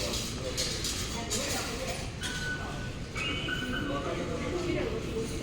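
A Taipei MRT metro train rumbles steadily with a whining motor tone rising and falling, and people talk faintly in the background throughout.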